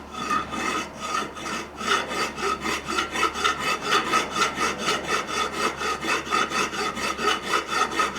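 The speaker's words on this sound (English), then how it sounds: "you're not supposed to run a file back and forth" A metal file is worked back and forth on a part from a Johnson 4 HP outboard motor, giving steady rhythmic rasping strokes, close and loud, repeating evenly throughout with no talking.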